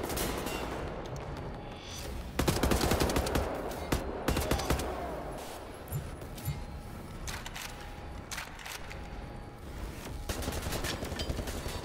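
Assault rifle gunfire in the shooter Wolfenstein: The New Order, rapid automatic bursts and loud volleys with explosions, dense and continuous amid game noise.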